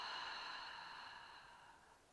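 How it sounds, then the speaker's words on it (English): One long, gentle out-breath taken during a hypopressive pelvic floor workout, heard up close and slowly tapering away, with no voice over it. "And exhale."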